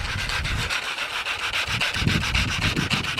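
Rhythmic back-and-forth sanding strokes scrape a surface at a campsite, close and fairly loud, forming a steady rubbing pattern of about four strokes per second.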